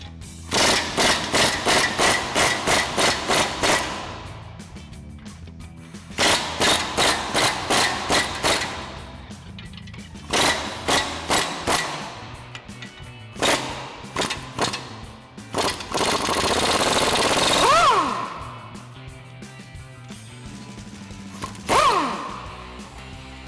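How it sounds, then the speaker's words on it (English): An impact wrench with a 21mm socket rattles off U-bolt nuts while a lift kit is installed on a GMC Sierra 1500 pickup, in several loud, hammering bursts, with short pauses and quieter shop noise between them. "we'll grab our 21mm socket on our impact and run those off"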